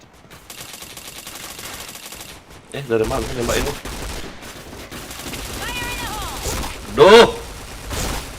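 Rapid gunfire bursts in a multiplayer shooter game, a sharp volley near the middle and another loud cluster later, mixed with game effects while someone talks over it.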